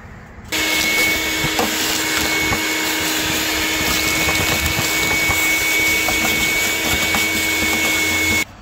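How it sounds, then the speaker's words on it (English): A shop vacuum switches on and runs with a steady, loud whirring hum and high whine while cleaning a Ford F8000 truck, then shuts off near the end. "I gotta vacuum all this stuff up"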